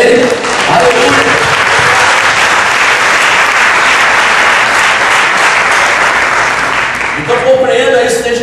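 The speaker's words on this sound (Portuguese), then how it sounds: "Vamos dar uma salva de palmas a Ele." Worshippers in a church clap together in a loud, dense burst of applause that lasts several seconds, with voices rising over it as it fades near the end.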